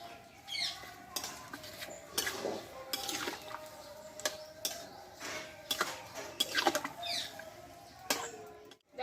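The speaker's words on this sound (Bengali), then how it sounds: "এইভাবে আমি নাড়াচাড়া করে নিব এর অটোমেটিক জলটা বেরিয়ে যাবে টমেটো থেকে" Tomato pickle being stirred in a pan, making a run of wet, squelchy scrapes and clicks in an uneven rhythm, close by and moderately loud, with no one speaking.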